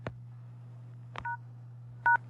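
Keypad tones from a telephone being dialed to enter a code: three short, clean beeps spaced about a second apart, quiet and close, over a constant low hum, with no speech.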